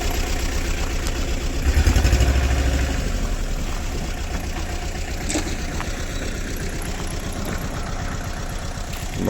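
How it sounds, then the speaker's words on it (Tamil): A truck engine idles at a plant nursery while it waits to be loaded with coconut seedlings, a continuous low rumbling chug that swells briefly near the start, with no voices. "டிரைவர் வண்டி எடுத்துகிட்டு வந்துட்டார்."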